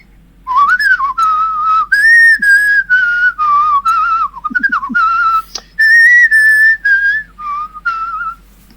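One person whistles a wavering melody close up, with clear sustained tones, slides and short pauses between phrases, heard alone and fairly loud.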